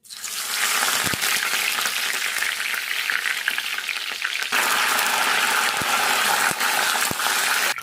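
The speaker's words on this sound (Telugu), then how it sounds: "ఆవాలు కొద్దిగా మంచిగా గోలినాక ఇప్పుడు కరివేపాకు వేసుకుందాము" Curry leaves crackle and sizzle loudly in hot oil with mustard seeds, a steady dense frying hiss with sharp pops scattered throughout, close up, while making a raw tamarind and brinjal pulusu.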